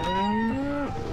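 A cartoon bull in a Looney Tunes video game lets out one long, loud, close moo that bends downward at the end.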